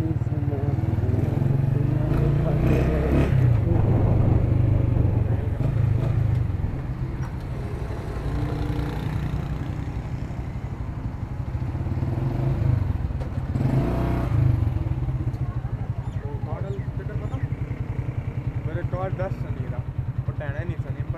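Motorcycle engine running during a ride on Indian roads, a loud low rumble that rises and falls with revving and clatter, near and continuous, with people talking over it.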